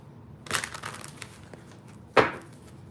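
A deck of tarot cards is shuffled: a crisp, papery riffling burst, a quieter stretch of soft card rustling, then one sharp slapping snap near the end.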